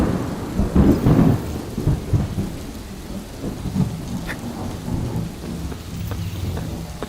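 Rain pours and thunder rumbles in the video game Death Stranding, a heavy thunderclap near the start followed by steady rainfall on surfaces.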